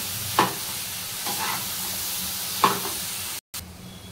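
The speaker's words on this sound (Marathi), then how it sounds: "सर्व मसाला व्यवस्थित लागेपर्यंत आपण सोयाबीन छान अशी तेलात परतून घ्यायची आहे।" Soybean chunks coated in masala being sautéed and stirred in hot oil for a homemade bhaji, a steady soft sizzle with two sharp scrape or clank accents from the stirring spoon, close and alone, broken by a brief gap.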